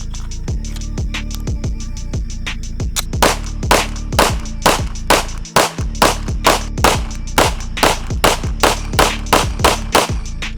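Rapid pistol fire from a Ruger RXM, a long string of sharp loud shots at a fast, fairly even pace with one short pause partway through, close and dominant.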